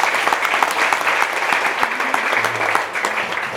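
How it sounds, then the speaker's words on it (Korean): A religious festival audience breaks into loud, dense applause for a missionary speaker, continuous close clapping from a sizable crowd with a faint voice briefly audible beneath it. "우리 귀한 선생님 장세대 성사님 박수하겠습니다."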